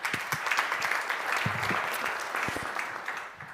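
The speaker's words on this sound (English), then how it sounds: "big round of applause for Rayna as she starts" At a global summit on measurement and evaluation, an in-person audience applauds as a presenter takes the stage, with steady, moderately loud clapping and a few brief voices underneath.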